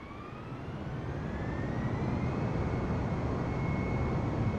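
A steady, loud roar from an easyJet Airbus A320's jet engines spooling up for takeoff on runway 26 at Gatwick in Microsoft Flight Simulator 2020, with a rising whine over a constant low rumble and no voices.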